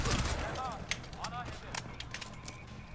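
Sharp bursts of gunfire in the video game Crysis crack in quick succession while voices talk over the shots.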